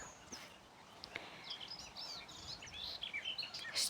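Several birds chirp and twitter in a green spring garden, scattered high calls coming and going over a quiet background, with a brighter burst of song near the end.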